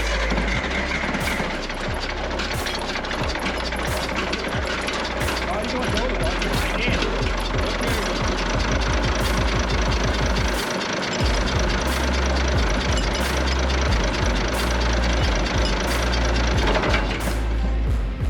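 A diesel engine, just fitted with a new injector, starts and runs steadily with a loud, rapid knocking rhythm throughout, with people talking over it.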